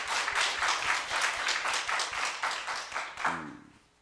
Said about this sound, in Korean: 1년간 함께하여 주신 주님께 영광의 박수 올리시겠습니다.